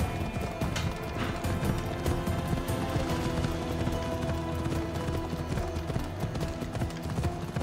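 Horse hooves clatter at a fast gallop in Assassin's Creed Odyssey, a rapid, steady clip-clop with game ambience and no talk, continuous for several seconds.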